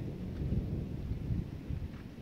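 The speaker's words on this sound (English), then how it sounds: "there have been huge thunderstorms all over this area" Steady low rumbling of thunder during a nighttime storm in Mountain View, Arkansas, with rain noise underneath, continuous and fairly loud throughout.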